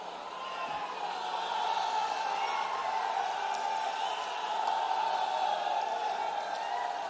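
A large crowd at an outdoor public event in Pichhore, Shivpuri, applauding and cheering to welcome minister Jyotiraditya Scindia, producing a steady, dense, fairly distant roar that holds throughout.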